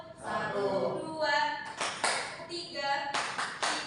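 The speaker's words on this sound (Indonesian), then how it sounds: "Tepuk 1," A classroom of students clap together in a counting clap game, giving a few loud group bursts between stretches of a teacher speaking.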